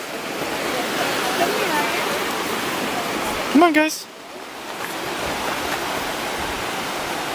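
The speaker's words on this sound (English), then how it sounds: "It's a waterfall." A waterfall outdoors gives a steady broadband rush of falling water throughout, and people talk and call out over it as they walk toward it.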